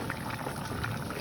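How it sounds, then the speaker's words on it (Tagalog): Broccoli going into a pot of boiling water, with a steady, faint bubbling and churning of water that continues evenly throughout. "Nalagay na natin yung ating broccoli."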